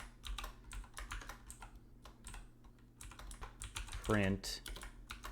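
Computer keyboard typing of a terminal awk command, a run of quick irregular keystrokes close by at low level, with a brief spoken word partway through.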